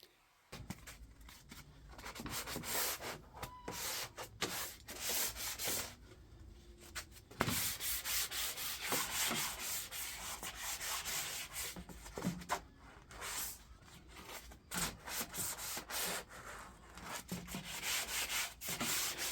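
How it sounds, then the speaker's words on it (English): Sandpaper rubbing over a primer-coated wooden project between coats, a steady close scratching that comes in repeated strokes with short pauses, heard alone without talk. "I like to put one coat of primer on, and then I like to sand in between."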